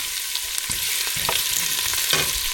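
Garlic and onions fry in a little oil for egg fried rice. A dense, steady sizzle runs throughout, broken by a few sharp spatula scrapes and stirs close up.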